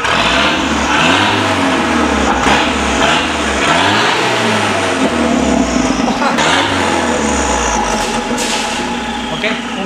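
Engine of a 1993 Volvo 960 Turbo revved repeatedly during an exhaust test, loud close blips rising and falling in several surges over a steady idle, with voices talking.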